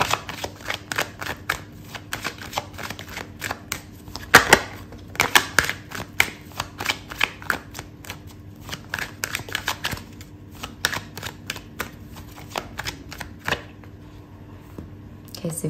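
Tarot cards shuffled and handled during a love reading, giving a long run of quick, dry riffling clicks and flicks at close range, with brief pauses and a louder burst partway through.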